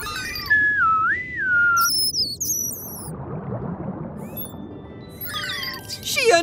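A person whistles a rising and falling tune mimicking a dolphin's signature whistle, followed by high squeaky chirps over a steady watery background.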